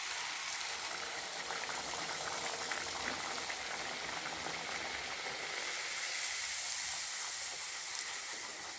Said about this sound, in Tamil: ஒவ்வொரு பூரியுமே இந்த டைப்பில் பொரிஞ்சு வந்துடும் அழகாக